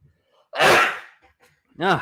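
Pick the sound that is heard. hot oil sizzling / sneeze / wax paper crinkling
sneeze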